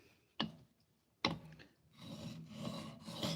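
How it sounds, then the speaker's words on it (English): A blade is sharpened on a wet stone, producing two sharp scraping strokes followed by a steadier rasping rub, close and fairly dry-sounding. "That sounds awfully dry for a wet stone"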